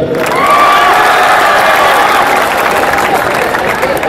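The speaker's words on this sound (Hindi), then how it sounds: "अरे नमन कर दिया, ताली तो बजा दो।" Live audience clapping for a Hindi comedy poet at a Delhi college event, a steady wash of applause with cheering and raised voices mixed in, sustained and fairly loud throughout.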